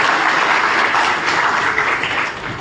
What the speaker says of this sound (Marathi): सगळ्यांनी जोरदार टाळ्या वाजवून आमदार साहेबांचं या ठिकाणी स्वागत करूया.